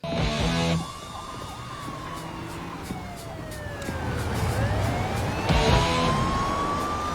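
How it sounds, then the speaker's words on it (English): Police sirens wail with rising and falling pitch sweeps while police cars rush past, the sirens loudest at the start and again near the end. "the sound of sirens and rushing police cars"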